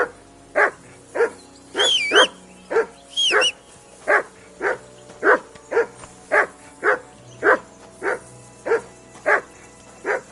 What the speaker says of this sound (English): Call off that damn dog before he won't stop the last of our mates.